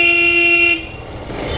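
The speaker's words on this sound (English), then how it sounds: "The horn works perfectly well" A car horn blares loudly and steadily for just under a second close by, then cuts off, leaving low road and engine rumble.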